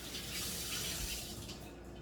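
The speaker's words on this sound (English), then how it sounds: "Give it a rinse." Steady rush of tap water streaming into a sink, continuous and close, with no voices.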